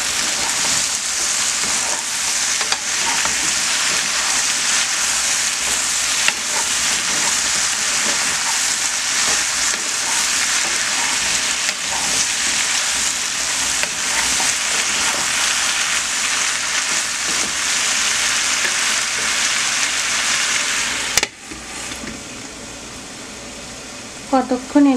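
Bottle gourd and prawn curry sizzles and bubbles steadily in a covered pan, a continuous close frying hiss that cuts off near the end, followed by a few clinks.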